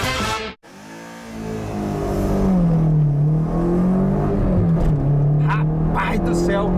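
A Peugeot 306 GTi-6 hot hatch engine revs up strongly after a brief gear-change pause, its rising, sustained harmonic drone loud and close, with a voice over the top.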